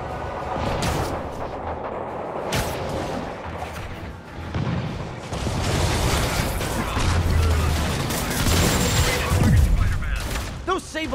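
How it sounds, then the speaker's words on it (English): Rapid bursts of gunfire and heavy booms from the Marvel's Spider-Man video game, loud and continuous, with a voice talking over the shooting. "Demons are firing on our APC."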